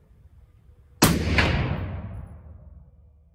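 A single suppressed shot from a 10.3-inch rifle upper fitted with a Thunder Beast Dominus-K suppressor and H4 buffer, a sharp loud crack with a long fading tail, alone outdoors.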